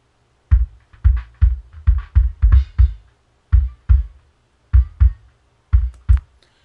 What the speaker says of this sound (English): so that's the basic sound of the bass drum